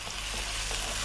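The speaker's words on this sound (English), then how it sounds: "We're going to go now for about 6 minutes, just frying this chicken around." Bone-in, skin-off chicken legs cut in half fry in a pan for curry, giving a close, steady, dense sizzle with no talking.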